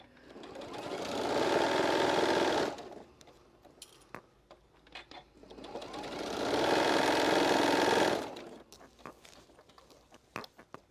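A sewing machine stitches a fabric casserole cozy in two sustained runs of rapid, even clatter, each a few seconds long, separated by pauses filled with small handling clicks and taps.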